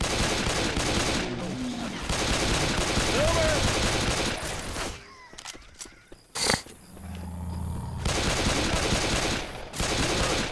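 Shotgun blasts from the Left 4 Dead 2 video game, heard as loud, harsh booming bursts that repeat in uneven clusters, with breaks of quieter game ambience between them.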